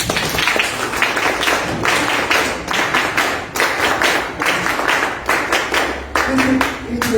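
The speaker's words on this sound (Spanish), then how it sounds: "un aplauso para todos nosotros" Sustained applause from an audience at a public forum on reforming the prosecutor's office and judiciary, steady dense clapping throughout, moderately loud and close.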